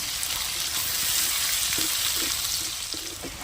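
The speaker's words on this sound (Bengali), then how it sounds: "টমেটো কুচি দিয়ে আবারও কিছুক্ষণ নাড়াচাড়া করে ভেজে নেব" Sliced onion and chopped tomato fry in a pan with a constant close sizzle, while a spatula stirs them in soft, irregular scrapes, for a chicken do-pyaza.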